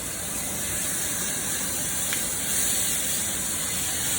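Steak frying in a hot pan gives a steady, loud hiss and sizzle that fills the whole stretch without a break, and no voices are heard.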